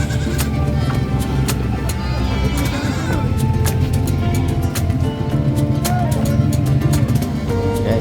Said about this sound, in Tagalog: Kambing ni Sir Martin.